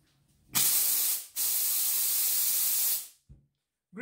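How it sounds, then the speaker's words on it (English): A Silvercrest SDR 1050 D1 handheld steam cleaner releasing steam in two loud, close hissing bursts, a short one followed by a longer steady jet lasting about two seconds, then a brief final puff. "Oh yeah, we've got steam."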